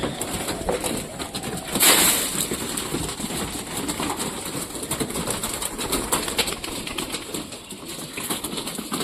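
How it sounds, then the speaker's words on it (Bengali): Frightened pigeons in a loft coo and shuffle around, with a brief burst of wing flapping near the start over a steady rustling, fairly close background. "সব কবুতরগুলো ভয় পাচ্ছে কিছু জন্য"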